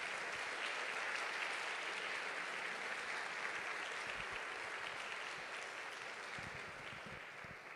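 A church congregation applauds through a sermon service, a dense, steady wash of many hands clapping that slowly fades toward the end, with no speech over it.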